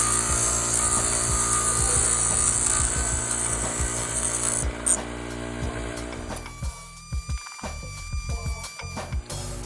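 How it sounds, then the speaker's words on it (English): A bench grinder grinds down a piece for a Halloween haunt pumpkin and candle prop build, its steady high-pitched whine running loud and continuous, then giving way to quieter intermittent contact and ticking sounds near the end. "But I've got this handy dandy bench grinder here. Make short work of it."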